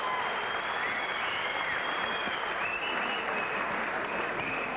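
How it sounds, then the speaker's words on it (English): A boxing crowd applauds the fighters Paul Briggs and Gurkan Ozkan before a bout, a sustained, even roar of clapping from a large arena audience at moderate distance. "give Paul Briggs and Gurkan Ozkan a big round of applause"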